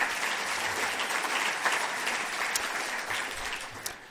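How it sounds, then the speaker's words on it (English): Audience applause at a climate conference event, steady dense clapping from a crowd holding at an even level for several seconds, with no voices on top. "Let's give her a round of applause."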